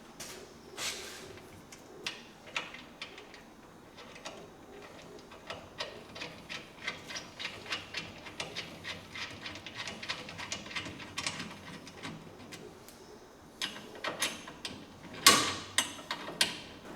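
A 12mm wrench tightens the hex-head gas strut bolt on a Kemimoto 3-in-1 windshield fitted to a John Deere Gator HPX615, giving close, repeated small metallic clicks and ratcheting ticks in a steady, irregular run with a louder clack near the end.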